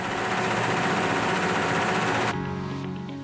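Industrial embroidery machine stitching a knitted pullover in a textile factory: a loud, dense, continuous mechanical whir with rapid rattling vibration that cuts off abruptly, leaving a fainter humming drone.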